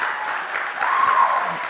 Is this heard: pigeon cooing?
no